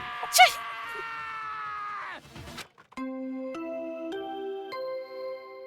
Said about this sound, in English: Hey, I heard screaming.